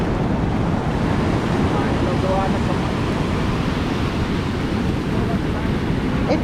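Ocean surf rolls steadily onto Gold Coast beach, a loud constant wash blended with heavy wind buffeting, with no distinct breaks between waves.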